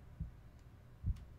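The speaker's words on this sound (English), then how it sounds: "there's a heartbeat sound now" A heartbeat in the video game Omori thumps twice, low and muffled, with a steady gap between the beats over faint background hiss.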